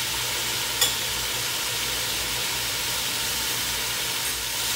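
Minced garlic and onions sizzle steadily in a pot while being stirred for Jamaican chicken soup. It is a close, even hiss of frying that carries on without a break, with one faint clink near the start and no talking.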